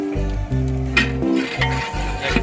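Cumin seeds and curry leaves crackle in hot oil for rasam while a ladle stirs the pot, giving a soft sizzle broken by scraping and metallic clinks, with a low steady hum underneath.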